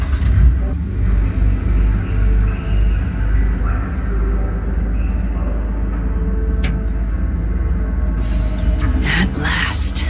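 A car drives in Cyberpunk 2077, giving a steady low engine rumble throughout, with a few brief sharper noises near the end.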